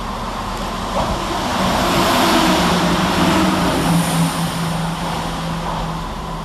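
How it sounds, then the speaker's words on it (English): A class 170 diesel unit passes through Edinburgh Gateway railway station, a loud steady rumbling roar with engine drone that swells midway and then eases slightly. "Next to pass through the station is 17403, working 2 Golf 23 from Edinburgh Waverley to Cowden Beef."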